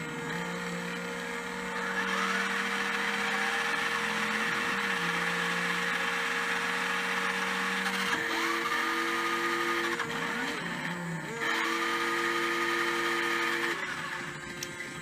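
Motor of a Mattel R/C Justice League Batmobile Elite-Tek 1/10 scale toy car whirring steadily, its pitch stepping down and up in several distinct shifts like gear changes, close and continuous with no talk.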